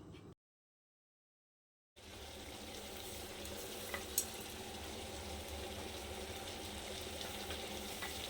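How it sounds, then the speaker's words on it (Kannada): Chicken pieces with turmeric and salt fry in a pan, giving a steady, moderately loud sizzle that runs on without pause after a brief silence near the start. "ಸ್ವಲ್ಪ ಉಪ್ಪು ಆ್ಯಡ್ ಮಾಡಿಬಿಟ್ಟು ನೀಟಾಗಿ ಮಿಕ್ಸ್ ಮಾಡಿ 1-2 ನಿಮಿಷ ಬೇಯೋಕ್ಕೆ ಹಾಗೆ ಬಿಟ್ಬಿಡೋಣ"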